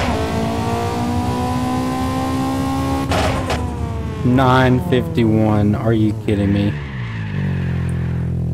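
A racing video game car revs hard through rising and falling engine tones, then its tires squeal in a long skid, loud and up front while someone talks over part of it.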